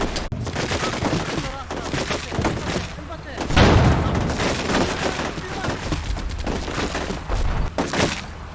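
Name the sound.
technical's machine gun suppressing fire in video game Combat Mission Shock Force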